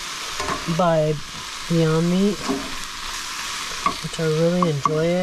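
Beyond Meat plant-based sausage sizzles in a pan during van cooking in the Nevada mountains, a soft steady frying hiss beneath someone talking throughout.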